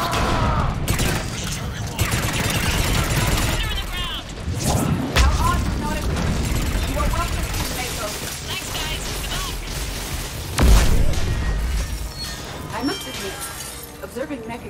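Mass Effect 3 combat: bursts of gunfire, crashes and heavy impacts blend with music and shouted dialogue, loud and dense throughout with a sharp explosion near the end.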